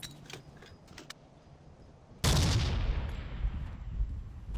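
A sticky bomb goes off against a tank in Forgotten Hope 2. Faint clicks and distant shots come first, then a sudden loud blast booms and slowly decays into a rumbling tail.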